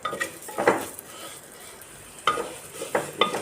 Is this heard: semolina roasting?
yes